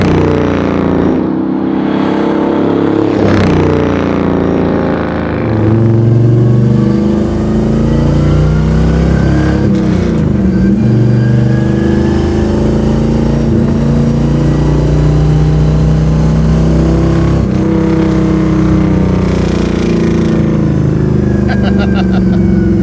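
A 1951 Ford coupe engine revs hard while driving down the road, loud and close throughout with throttle blips around downshifts, and someone talks over the engine noise at points.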